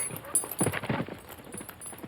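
A nervous horse's hooves clip-clop in a quick irregular patter of several close strikes, moderately loud, followed by a quieter tail.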